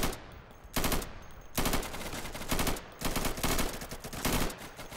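Rapid automatic gunfire in the shooter Insurgency, loud close bursts separated by brief pauses, with several sustained strings of rounds and no talk over it.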